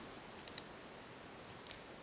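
A few faint, sharp computer mouse clicks, two close together and then one or two more a second later, isolated against a quiet room hiss.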